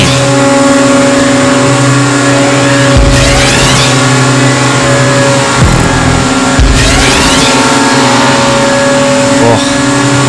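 A race car engine roars steadily in a GTA Online stunt race, loud and close throughout with brief dips and surges in revs, and a voice talks over the engine.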